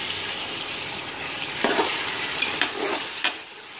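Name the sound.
green chillies frying in a pan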